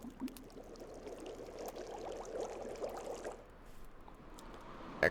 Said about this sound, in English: And we are purifying some water here.